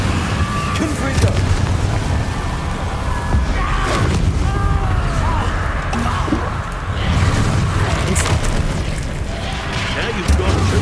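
Confringo fire-blast spell explosions in Hogwarts Legacy, repeated deep booms over a constant roaring rumble of battle, loud and close, with a voice shouting spells during the fight.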